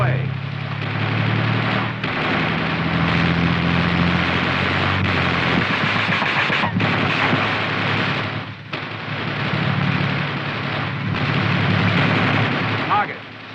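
M551 Sheridan light tank firing during a crew exercise, a series of heavy booming blasts and rumbling roar continuing through the clip, loud and close with engine noise between shots.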